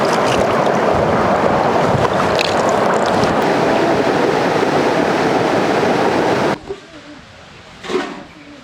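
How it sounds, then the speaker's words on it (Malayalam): A forest stream and waterfall at Kadappara rush steadily as loud, broadband flowing water, then cut off abruptly near the end, leaving quieter outdoor ambience with a brief swell. "ഈ ഒരു അരുവി അല്ലെങ്കിൽ ഈ ഒരു വെള്ളച്ചാട്ടം കണ്ടപ്പോൾ ഒന്ന് ഇറങ്ങിയതാണ്"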